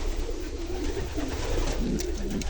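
Racing pigeons in a loft, some of them Wallon birds with a cock by its nest and eggs, give soft, repeated throaty coos close by over a steady background hum.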